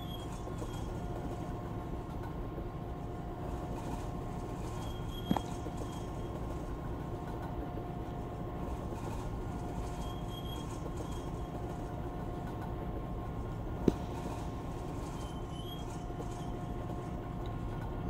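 Freight train on a local railroad rolling past at a steady distance, a continuous low rumble of rail cars with two faint sharp clanks along the way.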